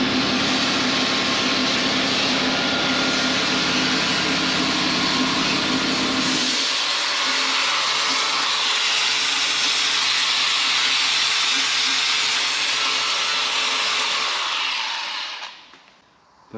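An angle grinder sanding a rusty body panel on a Ford Transit van: a loud, steady, hissing whine that drops in pitch partway through, keeps running a while, then winds down and stops near the end, with no voices.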